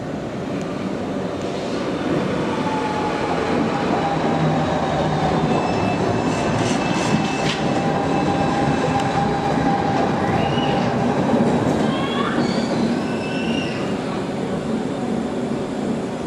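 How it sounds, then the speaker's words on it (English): A Croydon Tramlink tram arrives at Wimbledon, its steady rolling rumble filling the stop with faint wheel squeals and a brief tonal whine rising near the end, heard alone without talk. "This is the train arriving at Wimbledon."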